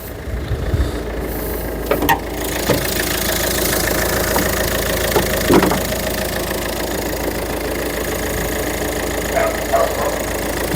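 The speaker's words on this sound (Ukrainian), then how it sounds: "Двигун працює рівно." The 1.5-litre diesel engine of a 2019 Opel Grandland X idles steadily with a low, even rumble, joined by a few faint clicks and knocks.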